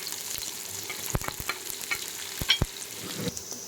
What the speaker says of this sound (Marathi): छान त्याला 2 मिनिट तेलामध्ये परतून घ्यायचं.